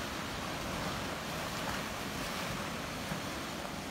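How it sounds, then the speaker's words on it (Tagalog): Ocean waves breaking on a sandy beach, a soft continuous wash of surf with wind, distant and faint, no voices. "Ang alon."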